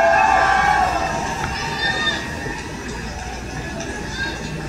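A crowd cheers and shouts at a climate event, heard a little way off and moderately loud, fading slightly after the opening seconds into a steady murmur of voices.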